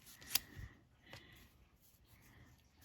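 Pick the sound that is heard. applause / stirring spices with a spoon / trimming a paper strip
trimming a paper strip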